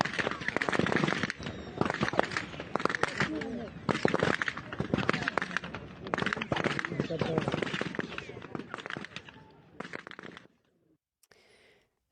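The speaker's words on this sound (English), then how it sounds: "just a warning that you'll hear a lot of gunfire" Sustained gunfire from Israeli forces near the Gaza aid crossing, a dense crackle of rapid shots at a distance, easing off near the end and fading to quiet.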